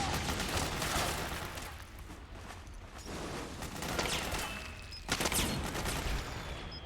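Bursts of gunfire in Metal Gear Solid 4, a steady wash of shots across the whole stretch with a sharper, louder volley late on.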